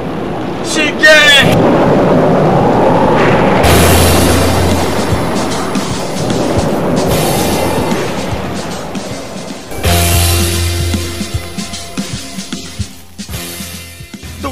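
A typhoon storm with loud rumbling thunder rolls and a broad roar of wind and rain, building and receding in long surges before a fresh crash near the end, with a brief high sound at the start.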